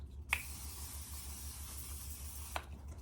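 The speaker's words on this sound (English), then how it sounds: "the one size Until Dawn mattifying waterproof spray" Two quick puffs of Until Dawn mattifying waterproof setting spray from a near-empty bottle, short soft hisses with a long steady mist between them, close and quiet.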